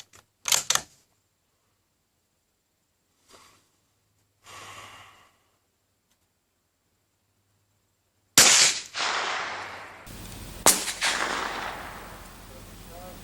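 A loud, close rifle shot cracks during a scope tracking test with a TAC Vector Segfreid scope, with a sharp report and lingering echo, preceded by brief handling clicks and soft breathing, then a second sharp bang.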